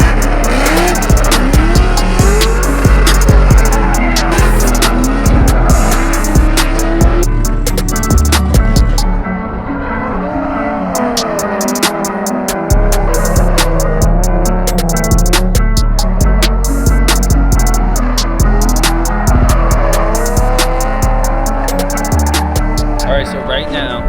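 A Mazda RX7 race car lapping a track, its engine revving and tires squealing and skidding repeatedly, loud and close, with a short lull midway and people talking over it.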